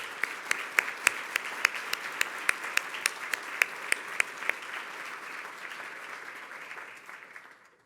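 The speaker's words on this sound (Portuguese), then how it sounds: "Peço a vocês uma salva de palmas ao Ilan e à Ana Carla." Applause from a conference audience at Harvard and MIT; dense clapping holds steady with sharp individual claps standing out near the front early on, then it thins and fades at the end.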